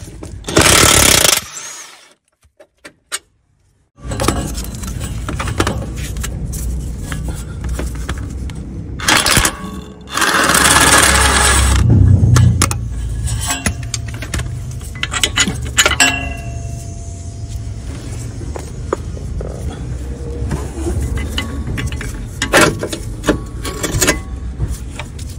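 Wrench work on the 17mm bolts of a Peugeot 107's lower bottom bracket during a clutch replacement: metallic clinks and tool rattles, a dropout near the start, then sustained mechanical noise and scraping, with no talk.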